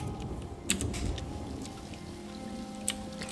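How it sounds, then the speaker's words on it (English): Rain falling in the Elder Scrolls Online video game, a soft steady patter with a couple of sharper drop hits, fairly quiet and continuous with no voices. "And it started raining all of a sudden."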